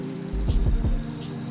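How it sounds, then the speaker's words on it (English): An SKMEI 2347 digital wristwatch's countdown timer beeper sounds a rapid, shrill, steady beeping that pauses briefly and resumes, loud and close over a low background hum with a few dull thumps. "The beeper was pretty loud, even to use as an alarm."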